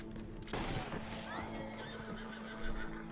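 Horse neighing in Red Dead Redemption 2, a loud whinny rising over game hoofbeats and a low hum, followed by further ringing cries and a clatter near the end.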